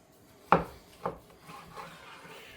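A knife cuts through a large beef cut on a board to portion it into steaks. Two sharp, close strokes about half a second apart are followed by softer, fainter scraping.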